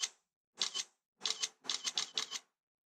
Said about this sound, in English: let's check out the camera. Yeah, camera sound seems to be